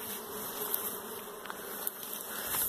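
Honeybees buzz steadily at the entrance of a hive fitted with a protective module against Asian hornets, a continuous close droning hum with individual bees briefly zipping past the microphone.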